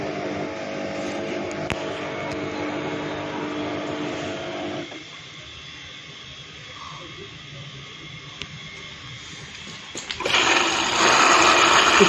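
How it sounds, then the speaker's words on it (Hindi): A Samsung Digital Inverter 7kg front-load washing machine with a 4C error fills with water: a rushing, hissing flow that drops quieter midway, then surges back loud near the end. "लोड को सेंस करने के बाद मशीन में दोबारा पानी लेना स्टार्ट हो जाएगी।"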